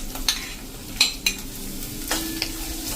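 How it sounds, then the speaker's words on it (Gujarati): Two medium onions drop into hot oil and fry with a steady hiss, while a spoon or spatula clinks and scrapes the pan a few times; no one speaks. "અને હવે આ સ્ટેજે આપણે જે આ મીડિયમ સાઈઝના 2 કાંદા લીધા હતા ને એને આપણે નાખી દેશું."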